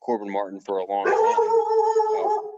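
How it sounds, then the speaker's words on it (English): A dog near the house lets out a drawn-out, whining bark-howl at a passing delivery truck, loud and close, right after a moment of talking. "there goes my dog."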